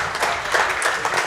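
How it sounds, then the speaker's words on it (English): Sparse, scattered pity applause from a wrestling event crowd after a wrestler takes a brutal hit, a brief, diffuse patter of clapping at moderate distance. "The pity claps from the crowd."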